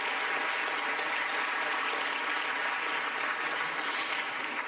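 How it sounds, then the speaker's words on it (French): Sustained applause from a conference audience, dense and steady throughout, welcoming a guest at a tourism colloquium. "Je propose que vous puissiez l'applaudir"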